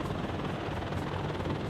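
A military helicopter in the WARNO mod of a strategy video game gives off a continuous rotor and engine drone, steady and moderately loud with no talk over it.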